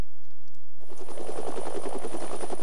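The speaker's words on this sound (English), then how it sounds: "Deplaning from a hovering helicopter is only done when the aircraft captain decides that it is necessary." Hovering military helicopter, loud and close, its rotor throbbing in a fast steady beat that swells in abruptly after a quiet opening and holds without voices.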